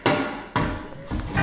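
Sharp metallic hammer blows on a part of a 1982 Ford Mustang GT Foxbody being restored, three or four loud close strikes spaced about half a second apart, each ringing briefly before the next.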